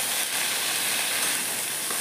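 Sour leafy greens cooking in a wok give off a steady, even sizzling hiss that holds at one level throughout, with no pops or stirring strokes standing out.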